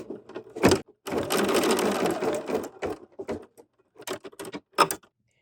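Embroidery machine stitching a placement line, a rapid rattling whir in a sustained burst followed by short intermittent stitching pulses and clicks, close and clear.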